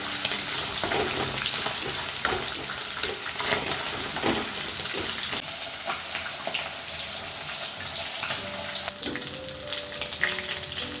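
Fish fries in hot oil with a continuous close-up sizzle and spitting crackle, with occasional clinks of a utensil.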